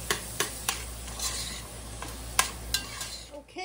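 Onions and celery soften in a pot for a haddock fish chowder, a soft steady sizzle broken by several sharp spoon taps and scrapes against the pot, close by and fairly quiet, without speech.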